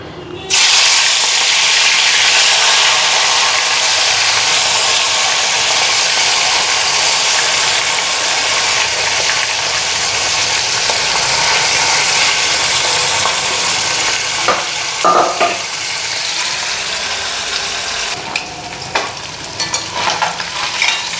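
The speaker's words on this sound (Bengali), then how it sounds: "এদিকে কড়াইয়ের তেল গরম হয়ে গেছে, মাছটা ভাজা বসায় নি।" Fish frying in hot oil in a wok, a loud continuous sizzle that holds steady and close throughout, with a few faint scraping knocks near the end.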